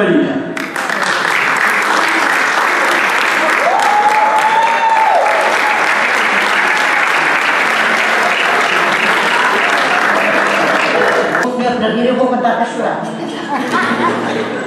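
Sustained audience applause for a fado singer at a fado and guitarra performance in Samora Correia, a dense, loud wash of clapping for the full length with a brief whistle and some crowd murmur near the end.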